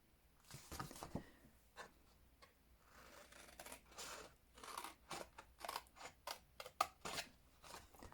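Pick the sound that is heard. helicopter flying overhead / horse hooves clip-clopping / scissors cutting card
scissors cutting card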